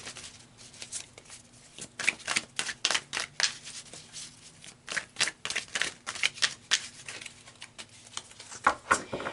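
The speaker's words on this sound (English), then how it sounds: "So let's pull some more cards." Tarot cards are shuffled and pulled in a quiet room, a rapid run of crisp flicking and slapping taps that speeds up and slows in uneven bursts, close and fairly soft.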